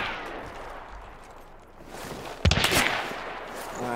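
Gunfire in the online shooter game Hunt: Showdown comes as a sudden loud burst of one or two sharp shots over a rumbling ambient background, with the echoing report trailing off.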